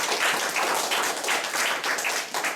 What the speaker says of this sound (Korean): 박수 끝냅시다.